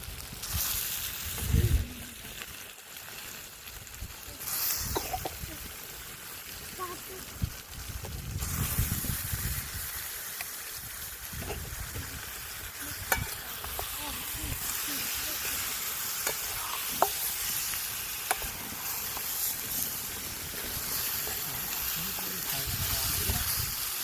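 Tilapia fish fry in oil on a wood-fired village stove outdoors, a continuous close sizzle and hiss with occasional crackles and clatter, with people talking over it at times.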